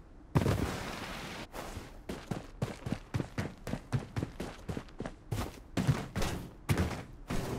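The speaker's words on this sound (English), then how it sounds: "Bombardment on its way." A sustained artillery bombardment in the video game Blood Strike delivers a rapid series of booming impacts, roughly a dozen or more evenly spaced blasts at moderate distance, with no talk over them.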